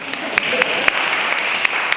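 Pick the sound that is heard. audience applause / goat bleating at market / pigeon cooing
audience applause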